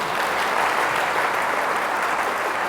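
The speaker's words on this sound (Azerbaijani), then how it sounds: "elə bir alqışlarla gəlin onları bir alqışlayaq" A wedding audience claps together in a dense, steady round of applause, loud and continuous from start to finish.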